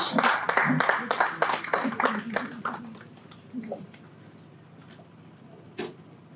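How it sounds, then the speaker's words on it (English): An audience claps as a woman walks onstage at an economic outlook event: a burst of brisk applause for about three seconds that thins into scattered claps and dies away, with one late clap. "Please give a big round of applause to Dumebi Oluwole as she takes the stage."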